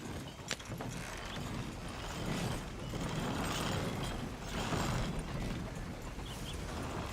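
Hitched horses in a ranch roleplay video game clop along a trail, a steady run of hoof beats with creaking wagon mechanisms and faint rattles, no talk.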